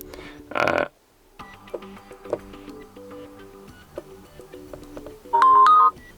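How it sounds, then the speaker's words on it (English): A ringtone plays from a Huawei Watch 3 smartwatch, a tonal melodic chime of several short notes ringing alone, with a louder, brighter burst near the start and another near the end. "now when you tap on the ringtone, you can listen to it"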